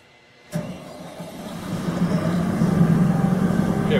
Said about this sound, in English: It'll turn the fuel solenoid on and fire up engine number one.